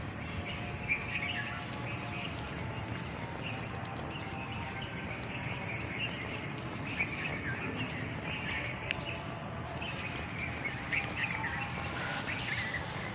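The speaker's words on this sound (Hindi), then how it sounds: "अज़ानें सुनाई दे रही होंगी आपको और परिंदों की आवाज़ें भी" Birds chirp and tweet continuously at dusk at a distance over a steady outdoor hum, with scattered small calls throughout and no talking.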